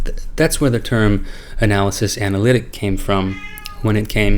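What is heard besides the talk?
cat meowing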